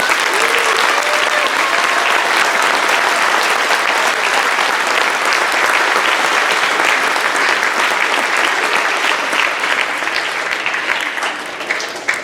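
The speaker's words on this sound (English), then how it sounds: "if we can give them a big round of applause" Audience at a summer band concert applauding the band directors and staff, a dense, steady wash of many hands clapping that holds loud throughout and thins slightly at the end.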